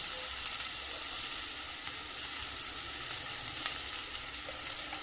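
Tomatoes and spices for aloo matar curry sizzle and fry in a pan, a steady crackling hiss with occasional sharper pops, close and continuous without any talk.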